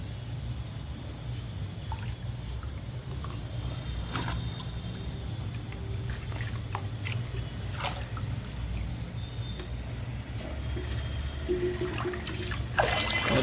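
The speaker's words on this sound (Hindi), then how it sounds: "अब इसको हम 10 लीटर साफ़ पानी में मिक्स कर देंगे" Water drips and trickles as soaked flax seed cake fertilizer is stirred into ten litres of clean water, soft splashes and dribbles over a steady background, with a louder slosh near the end.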